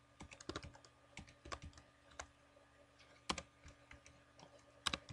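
Numbers being typed on a computer keyboard into a spreadsheet, a string of quick close clicks in irregular bursts with short pauses, quiet and alone.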